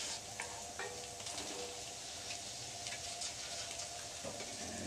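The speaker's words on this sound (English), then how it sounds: "they're going to cook until the tomatoes blister up a little bit" Two cups of cherry tomatoes sizzle steadily in a hot pan as they cook and blister, with occasional clinks of stirring over a dense, continuous frying hiss.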